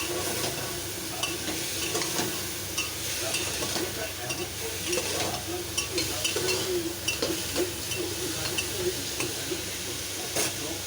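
Continuous frying sizzle of dalia with salt and turmeric, with repeated scraping and stirring strokes against a pan, close and steady for several seconds.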